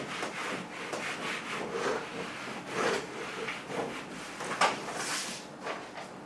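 Writing is rubbed off a board during a math lecture, a series of uneven scrubbing and wiping strokes, close and fairly quiet, with no talking.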